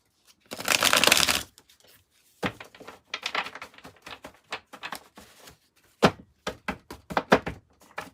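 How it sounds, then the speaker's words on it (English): Tarot cards being shuffled close up on a lap: a long riffle, then bursts of quick flicking and tapping, separated by short pauses. "I'm trying to shuffle on my lap because I don't want to mess up all the cards"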